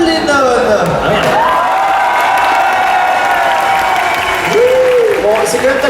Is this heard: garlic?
no